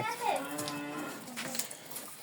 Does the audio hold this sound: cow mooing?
yes